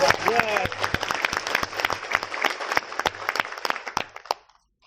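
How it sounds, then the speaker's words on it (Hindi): Audience applause at a motivational sales seminar, many distinct claps near and crisp, starting over a brief voice and then fading out to silence. "अरे वाह, जोरदार तालियां"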